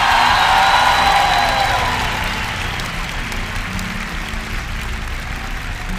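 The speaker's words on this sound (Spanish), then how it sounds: "¡Un aplauso, México!" A concert audience in Mexico breaks into loud applause and cheering, dense sustained clapping that swells at first and then settles into a steadier roar.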